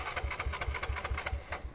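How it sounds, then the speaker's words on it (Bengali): A crashed motorcycle's engine, with fuel overflowing, runs close up with a rough, uneven pulsing chug that keeps a steady beat through the short stretch. "স্টার্ট তো বন্ধ হয়ে যাচ্ছে"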